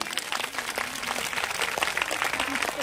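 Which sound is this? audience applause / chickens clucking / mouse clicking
audience applause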